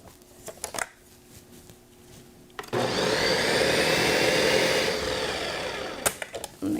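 A Ninja blender mixes ingredients, starting with a few clicks and knocks, then a loud steady whirring run of about three seconds that cuts off into more clatter.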